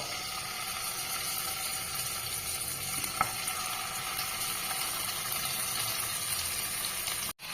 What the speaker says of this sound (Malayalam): ഇനി ഇത് ഒരു പാൻ അടുപ്പത്ത് വെച്ച് കുറച്ച് ഓയിൽ ഒഴിച്ച് കഴിഞ്ഞ് രണ്ട് മിനിറ്റ് ഒന്ന് പയ്യെ ഫ്രൈ ആക്കി എടുക്കുക